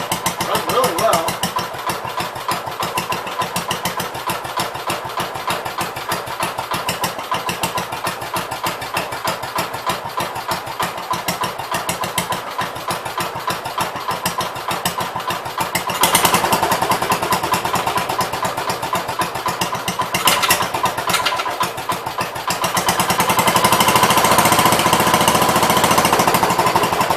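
Gravely 566 walk-behind tractor engine running steadily and loudly at close range, a continuous rapid mechanical chatter with small rises in revs near the end.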